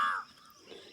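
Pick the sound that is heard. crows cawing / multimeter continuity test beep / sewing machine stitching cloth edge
crows cawing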